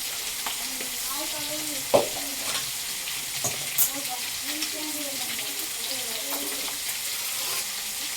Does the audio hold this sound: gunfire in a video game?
no